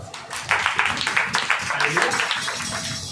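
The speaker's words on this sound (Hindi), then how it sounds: "तो ताली बजा दी।" A church congregation breaks into brief applause, a burst of irregular clapping that runs under a preacher's continuing speech.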